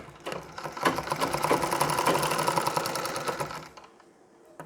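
A sewing machine runs steadily at close range, joining the waist section of a Nauvari saree with long stitches, its rapid needle chatter continuous for several seconds before slowing and stopping near the end.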